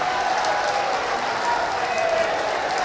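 A crowd at a religious healing gathering breaks into loud, sustained applause, dense steady clapping filling the space throughout.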